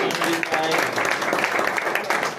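Audience applauding at a carrom tournament prize distribution, a dense, steady patter of clapping hands filling the whole stretch at moderate level.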